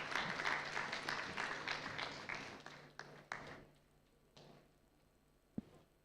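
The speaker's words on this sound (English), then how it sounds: "Can we have a round of applause for our chairpersons as well as for our speaker?" Round of applause from an audience at a medical conference, clapping dense and loud at first, then thinning out to a few scattered claps and quiet room noise.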